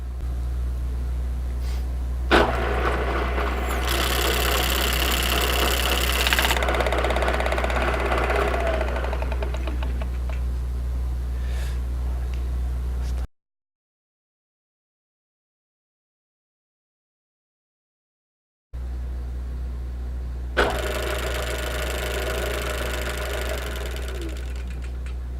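Cutter machining the end cap of an electric motor on a machine tool, a steady machine hum with a louder grinding cutting sound in two stretches, split by a silent gap.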